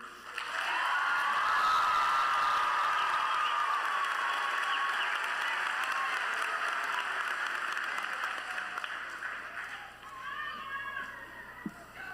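A Red Bank High School graduation crowd applauds the class of 2024 in a long, sustained wash of clapping from many hands, heard from a distance and slowly thinning out toward the end.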